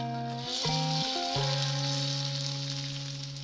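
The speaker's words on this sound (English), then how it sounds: "We're going to let that sizzle for a couple minutes before we turn it over." Seasoned steelhead fillet sizzles steadily in a hot pan, a constant bright frying hiss heard close up and alone, with a sustained tonal hum beneath it.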